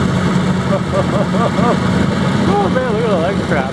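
A boat engine spins a newly fitted propeller and shaft, revved up to second speed, with a steady loud drone running throughout while someone talks over it.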